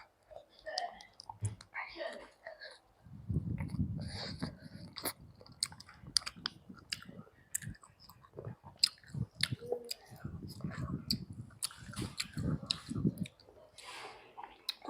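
Crunchy squid chewed close to the mic in bursts of wet, crackling bites with small clicks, pausing briefly between mouthfuls; faint whispery sounds appear at the start.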